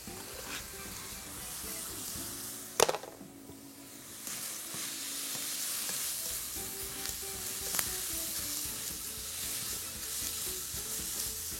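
Minced meat frying with garam masala and a single onion, sizzling steadily and close throughout, with a sharp clatter of a utensil near the start and occasional stirring scrapes.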